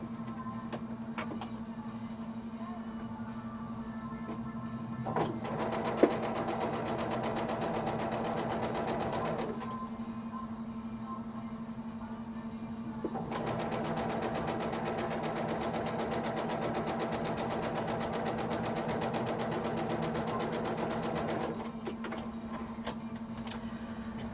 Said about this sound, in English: A session on the sewing machine and not a broken needle to be seen.